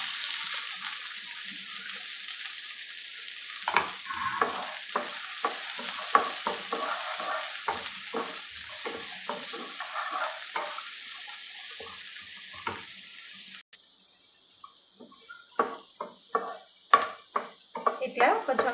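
A quarter kilo of chopped amla, Indian gooseberry, fries in a pan with a steady faint sizzle and repeated scraping stirs of a spatula, close, continuing throughout with brief pauses between strokes.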